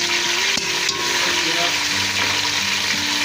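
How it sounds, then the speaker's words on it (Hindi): Washed potatoes fry in a pan for a spiced potato gujiya recipe, producing a steady, close, dense sizzle throughout with a few faint stirring clinks. "ये आलू हमने धो के अच्छे तरीके से रखे, तो ये डाल दें।"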